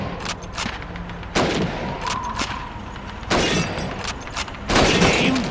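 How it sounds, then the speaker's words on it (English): Rifle shots crack out at bottles and plates on a Red Army training shooting range in Call of Duty 2. Several loud, separate reports are spaced a second or two apart, some with a shattering ring. "Step up to the shooting range. Ready, comrades? Shoot those bottles and plates."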